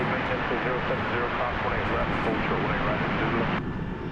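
A Boeing 757 airliner at DFW airport at night gives a steady, broad engine roar close by, with a voice speaking over it.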